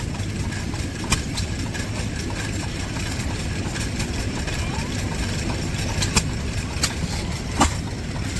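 A vintage stationary engine, repaired after a cracked hopper and other damage, runs steadily with a low, continuous chugging drone and occasional sharper knocks, close by and fairly loud.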